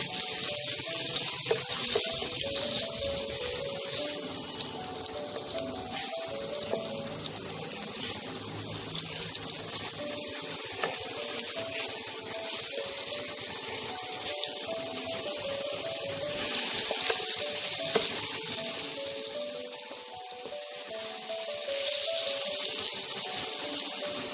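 Eggplant frying in hot oil with a pinch of turmeric and salt gives a steady, even hiss throughout, with a faint melodic tune running quietly underneath.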